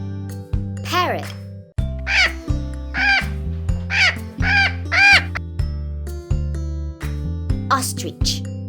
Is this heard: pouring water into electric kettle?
no